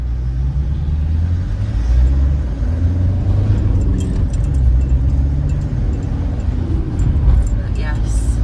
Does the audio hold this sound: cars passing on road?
yes